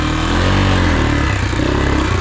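A Yamaha Grizzly 450 ATV engine with a failed wet clutch drones loud and steady with a strong low rumble, its pitch climbing slightly as it revs too high throughout.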